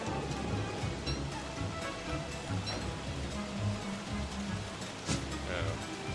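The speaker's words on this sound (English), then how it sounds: "It's getting a little rainy" Steady rain in the survival video game Don't Starve, a continuous broadband patter holding evenly throughout at a moderate level, with a faint musical tone and brief clicks over it.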